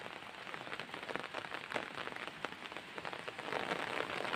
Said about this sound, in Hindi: नहीं तो मेरे को भिगा देगी ये पूरी बारिश